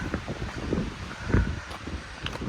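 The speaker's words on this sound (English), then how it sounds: "Windy." Steady outdoor wind buffeting the microphone, a low rumbling roar with gusty swells throughout, no voices.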